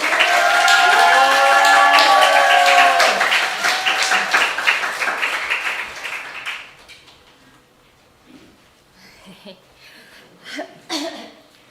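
An audience applauds loudly for a vocalist at a church gathering, with voices and cheers mixed into the clapping. It fades after about six seconds, leaving a few scattered claps and noises.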